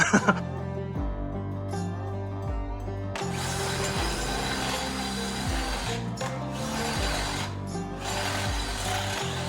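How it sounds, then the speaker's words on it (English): A drill grinds steadily through thick round metal tubing, loud and close, its pitch stepping as the bit bites, with a sharp clatter at the start. "let's try and drill on a really thick round piece of tubing"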